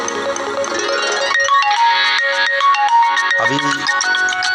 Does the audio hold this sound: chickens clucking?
no